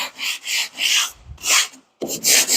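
Repeated rasping strokes of a scraper across glass, taking dried paint ridges off, loud and close, in rhythmic bursts with a brief pause before the scraping resumes.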